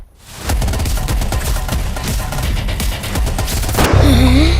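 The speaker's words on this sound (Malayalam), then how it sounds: "3 വെടിയും വെച്ചിട്ട് ഇങ്ങനെ ഊതിയിട്ട്" A loud, rapid volley of gunshots from the intro of the film Toxic starring Yash fires in dense succession for about four seconds, then cuts to a quieter, tonal sound.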